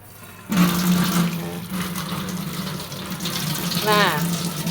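Tap water runs steadily into a sink while cups are washed in a small household kitchen, a continuous close splashing stream starting after a brief quiet moment, with faint voices underneath.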